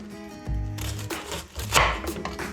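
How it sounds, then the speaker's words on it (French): A knife cuts vegetables into pieces about 4 to 5 cm long for kimchi, with several firm, close chops against a board and a lingering tonal hum at the start. "Moi, j'aime bien couper comme ça."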